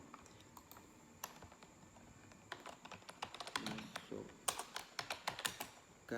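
Quick bursts of keystrokes on a computer keyboard as a check-in date is entered, light irregular tapping that grows busier and louder toward the end.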